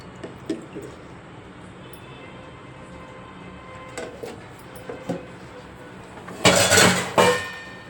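Cooking oil poured from a ladle into a pan, a short loud splashing rush near the end after quiet scattered kitchen clatter, close and alone without talk.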